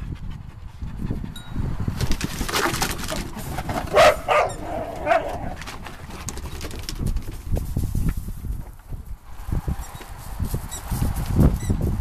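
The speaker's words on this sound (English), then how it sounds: "No more barking." A dog barks repeatedly in short bursts, fairly close, over a busy background of rustling and other noise.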